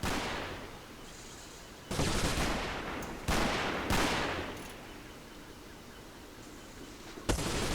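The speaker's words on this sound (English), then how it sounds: "Oh, I'm getting shot at." Gunfire in the Combat Mission Market Garden war game: loud crackling volleys and bursts of shots at about two, three, four and seven seconds, with fainter scattered firing between them and no speech.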